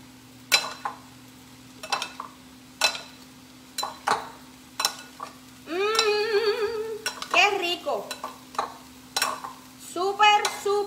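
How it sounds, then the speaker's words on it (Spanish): A spoon stirring cherry tomatoes through an oriental vinaigrette in a bowl gives a run of sharp clinks against the bowl, followed by longer wet, sloshing stirring strokes, close and fairly clear. "Mezclamos bien, bien, bien. Que todo se impregne de esa vinagreta rica."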